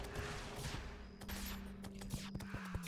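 A barrel cannon fires in Terraria, a loud stream of rapid blasts and thumps that crowd together into a continuous, booming barrage with no talking.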